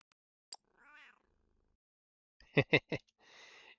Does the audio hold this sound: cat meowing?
yes